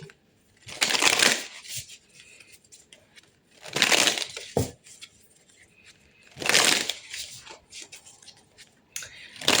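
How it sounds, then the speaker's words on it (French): Oracle cards are shuffled by hand in three loud bursts of riffling and rustling, each about a second long, with quiet gaps and soft handling taps between them. "on va aller tirer 3 cartes avec ce jeu"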